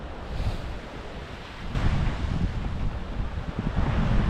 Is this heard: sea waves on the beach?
yes